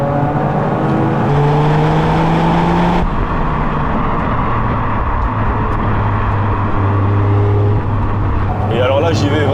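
A Toyota Yaris GR engine drones and revs steadily while driving, pitch rising and falling with gear changes, loud and close, with a voice talking over it.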